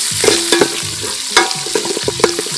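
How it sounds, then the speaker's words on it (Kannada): Curry leaves with green chillies crackle and fry in hot oil as a spoon stirs and scrapes the pan in a few sharp bursts, close and fairly loud, with no voices. "ಕರಿಬೇವು ಇದು ಹಾಕಿದ ತಕ್ಷಣ ಸ್ವಲ್ಪ ಫ್ರೈ ಮಾಡುತ್ತೆ"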